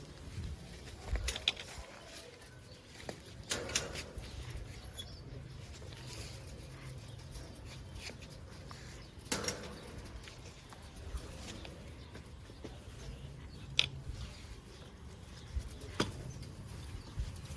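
Fancy high-flying pigeons in a loft give soft, low coos over a steady murmur, with occasional brief flutters and wingbeat bursts standing out now and then, fairly close but quiet.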